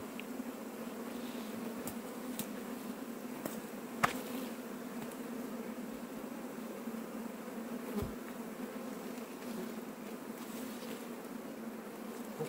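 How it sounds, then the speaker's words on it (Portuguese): A swarm of bees drones steadily inside a wooden stump with a close, continuous buzzing hum, broken by a few faint knocks and clicks. "Olha aqui, tanto de abelha que já juntou aqui."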